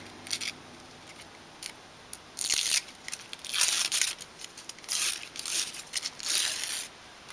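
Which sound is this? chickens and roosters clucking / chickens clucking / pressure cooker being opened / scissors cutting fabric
scissors cutting fabric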